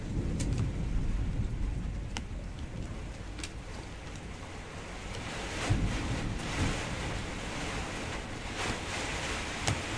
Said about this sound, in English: this rain is for real. I can't even see the street down below.